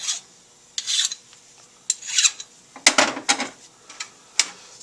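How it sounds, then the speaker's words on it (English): A hand file rasps over a KTM Husaberg power valve part to deburr it, in short close scraping strokes with brief pauses between them. "which requires a file to clean up just a little bit"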